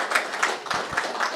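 Brief, light clapping from an audience at a national legal aid conference, a few spaced claps over about a second, with no voices.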